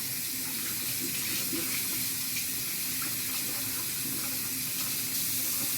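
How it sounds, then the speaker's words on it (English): Tap water runs steadily over quinoa being rinsed in a sink, a loud continuous splashing stream close by, with faint scraping as the grains are stirred. "So we're just washing it off here. Washing off all that stuff."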